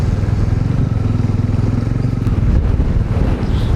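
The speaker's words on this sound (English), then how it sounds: "बहुत ज़्यादा wind blast है यहाँ पे" Heavy wind roars against a Bajaj Dominar 400 motorcycle riding through monsoon rain on a ghat road, a dense continuous rush and buffeting mixed with the engine's low drone, loud and close throughout.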